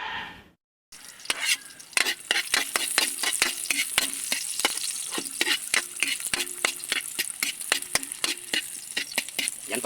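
Garlic sautéing in a pan for a seafood dish, a steady loud sizzle with many sharp crackles and stirring scrapes after a brief silent gap near the start.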